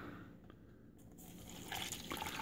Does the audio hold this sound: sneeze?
no